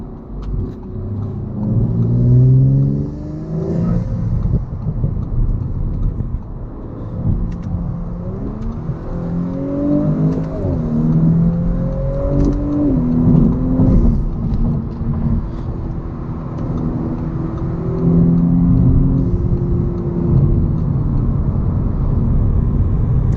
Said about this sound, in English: So here we are on the highway, up to speed